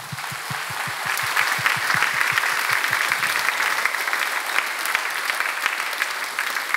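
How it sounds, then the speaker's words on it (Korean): An audience at a church conference lecture applauds, starting with a few rhythmic claps and swelling into sustained, dense clapping from the crowd, steady and fairly loud throughout. "하나님께 영광의 박수를 한번."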